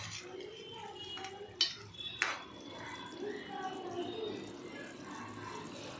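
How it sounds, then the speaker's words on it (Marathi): Prawn curry being stirred in a pot: a couple of sharp metal clanks of a ladle against the rim over soft liquid stirring, with a faint voice in the background. "तर आता हे चांगलं आता ढवळून घ्यायचं आपल्याला परत."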